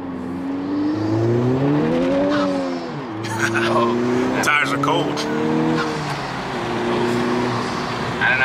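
A stock Honda Civic Type R FK8 pulls hard up an on-ramp, its engine note rising through the revs, dipping at a gear change, then climbing again, close inside the cabin with people talking over it.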